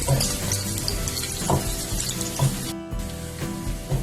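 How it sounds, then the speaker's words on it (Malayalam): Squid pieces and coconut slices fry in a pan for a Kerala-style squid roast, giving a steady close sizzle with occasional light clicks of a spatula against the pan. "ഇതൊരു 2 മിനിറ്റ് ഇങ്ങനെ ഫ്രൈ ചെയ്യാം"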